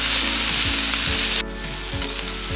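Colored peppers with curry and pork for mandarin fajitas sizzling in a frying pan, a dense, steady crackle and hiss close up, dropping slightly in loudness partway through, with soft stirring scrapes and no talk.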